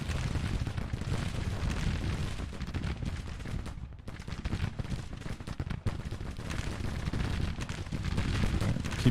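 Skirmishers in the Grand Tactician Civil War game fire muskets at range, producing a dense, continuous crackle of overlapping shots over a rumbling battlefield din, with no breaks.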